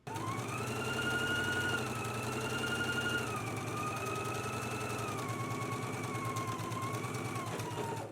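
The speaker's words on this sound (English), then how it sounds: "let's go ahead and stitch using a 5/8 inch seam allowance" A home sewing machine stitches a girls' dress seam at a 5/8 inch seam allowance, its steady mechanical hum and rapid needle chatter running loud and continuous for about eight seconds with slight speed shifts and no talking.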